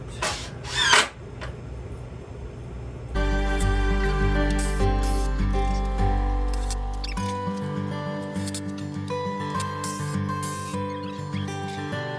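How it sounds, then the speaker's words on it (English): A power drill driving screws into 2-foot pallet boards for a storage shelf, a brief bump at the start followed by a long steady motor whine that shifts pitch partway and then winds on. "Screwing in our 2-foot boards."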